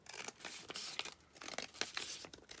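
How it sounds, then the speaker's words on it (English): Patterned paper being cut to size for a paper bag folio, with scissors snipping in quick, crisp bursts of close rustling and slicing, several short cuts in a row with brief pauses between. "use that as a guide to just cut that there"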